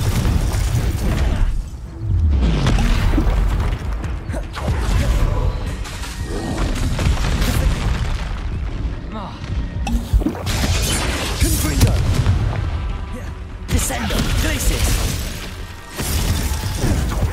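Booming fiery blasts from the Confringo spell in Hogwarts Legacy, a magical combat video game, come in repeated loud bursts with crackling debris and shattering, dense game audio filling most of the stretch with brief dips between volleys.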